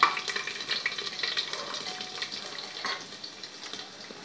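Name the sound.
chopped garlic frying in a pan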